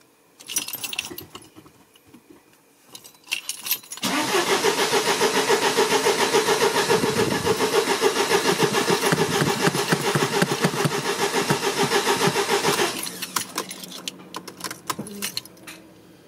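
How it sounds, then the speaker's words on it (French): A Mercedes with an engine computer fault is cranked to start: some quiet handling sounds, then a loud, steady mechanical cranking drone that runs for about nine seconds before cutting off, followed by quieter clicks and rustling. "donc on va essayer de démarrer."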